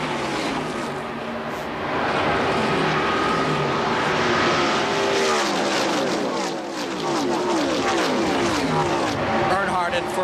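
A pack of NASCAR stock cars racing closely at the 1979 Daytona 500, a loud continuous roar of engines sweeping past with shifting pitch, under a commentator's voice.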